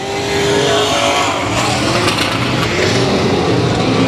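Race cars lapping South Texas Speedway, a loud, continuous engine roar close by that swells and holds for the whole stretch, with no commentary audible over it.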